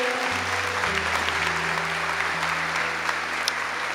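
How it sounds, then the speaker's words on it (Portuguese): A church congregation claps along as a steady wash of applause, with a sustained low organ or keyboard chord changing pitch underneath and no speech. "Vamos aplaudir essa palavra."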